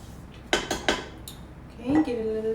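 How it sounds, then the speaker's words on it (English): A spatula scrapes cake batter for a sugar-free Madeira cake around a mixing bowl, giving a few sharp clinks and scrapes of utensil on bowl, then a softer tap and brief hum near the end. "Let's scrape it down."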